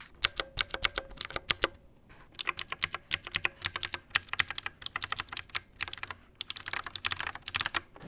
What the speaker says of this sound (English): These switches sound exactly like the Cherry MX Blues